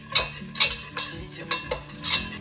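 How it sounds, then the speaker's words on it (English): A whisk beating chili powder into warm oil in a pan, about six sharp rhythmic scraping strokes at a steady pace over a faint sizzle, close and clear with no voices. "I'm just going to whisk that into our oil and kind of start getting that chili powder warm"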